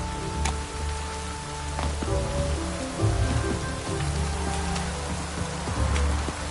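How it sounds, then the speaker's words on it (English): Steady, dense rainfall in the video game The Witcher 3 patters on surfaces throughout, with a broad, continuous hiss, a low rumble beneath it and occasional distinct drops. "Rain doesn't bother you, it seems."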